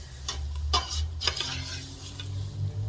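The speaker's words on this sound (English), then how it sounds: "I'm gonna sweat those out in the pan with the beef and the fat" Onions and peppers cooking in a pan with beef and fat for homestyle chili, heard as a soft continuous sizzle under a low hum, broken by several sharp scrapes and clinks of a utensil stirring against the pan.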